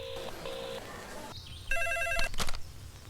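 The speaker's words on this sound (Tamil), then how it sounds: "ஏய் ஃபோன் அடிக்குதுல்ல?" A telephone rings indoors with two short electronic ring bursts followed by a louder, longer tonal ring, close and clear over a low room hum.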